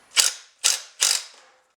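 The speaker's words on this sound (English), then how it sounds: "Snug these screws down." Three short, sharp mechanical clicks in steady succession, close and clear with nothing else around them, as screws are snugged down on a UFO orbital attachment during a rebuild.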